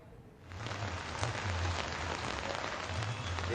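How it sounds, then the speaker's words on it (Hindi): Heavy rain falls steadily in Jhalawar district, a dense, close hiss that swells in after a quiet start and continues unbroken. "सुबह से तेज बारिश का रोज जिले भर में जारी है।"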